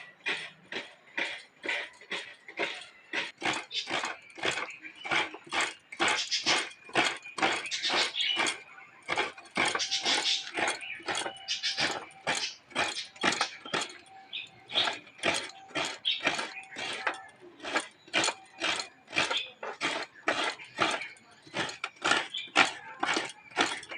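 Coconut being grated by hand on a traditional village grater for winter pitha, a fast steady run of rhythmic scraping strokes, close and fairly loud throughout, with no talking.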